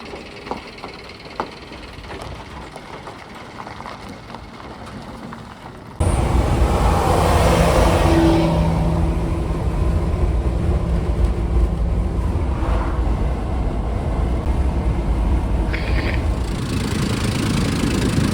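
A low loader truck carrying an old Scammell drives along the road with a steady, loud engine drone and rumble, which comes in abruptly partway through after a quieter stretch.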